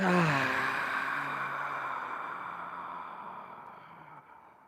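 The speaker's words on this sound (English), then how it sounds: "And a cleansing exhale through your mouth." A long, breathy exhale through the mouth during a yoga breathing exercise, starting with a brief voiced onset and fading slowly over several seconds, close and soft.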